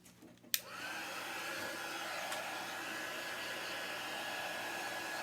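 A craft heat tool switches on with a sharp click and runs as a steady, close, breathy blowing hum while drying paint on a mixed-media piece.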